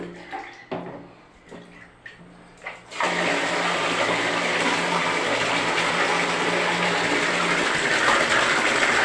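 Water is poured over someone's head and splashes in a loud, continuous gushing rush that starts abruptly after a few softer knocks and splashes, then runs on steadily to the end.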